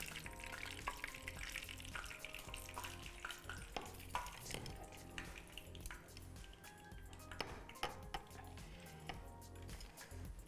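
Chicken fries in a pan with a quiet sizzle as it is stirred. Pieces are turned with light scrapes and clinks of utensil on metal, faint and close.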